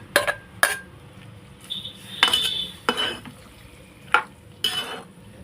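Potato pieces tipped into a pan of cauliflower masala curry, a series of sharp metallic clinks and scrapes from a spoon against the pan, spaced irregularly and close.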